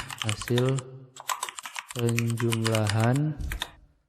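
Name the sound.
typing C++ code on a computer keyboard, pressing enter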